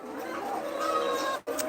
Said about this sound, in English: I'm hearing funny sounds from these birds.